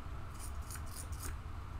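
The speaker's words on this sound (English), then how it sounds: "Cut the pins." Wire cutters snip through soldered component pins, four short, crisp, close metallic clips in quick succession over a low background hum.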